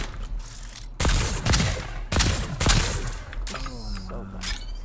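Rapid gunfire from a Fortnite video game match hammers out in several loud bursts separated by short gaps, with mechanical clatter and a rising tone near the end.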